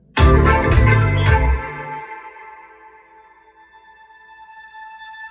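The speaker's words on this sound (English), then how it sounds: "I can't forget this amazing Omnisphere sound." Omnisphere synth patch with a dense, bright burst of layered tones for about a second and a half, then a long shimmering sustained tail that slowly fades in a spacious, cosmic reverb, heard alone.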